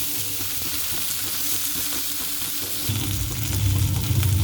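Bhetki fish paturi parcels, wrapped in leaves, fry in a pan with an even crackling sizzle that swells louder in the final seconds.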